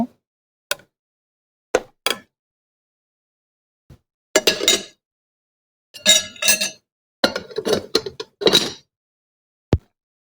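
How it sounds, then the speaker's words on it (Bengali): A spoon stirring syrupy sweets in a cooking pot: sparse, irregular clinks and scrapes against the metal, close and clear, separated by silence with no talk. "এখন মিষ্টিগুলো আমি একটু নেড়ে চেড়ে দিব"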